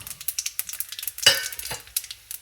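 Cloves and aniseed crackle and sizzle in hot oil with cinnamon sticks, a close run of sharp pops and spits with one louder burst near the middle, no talk.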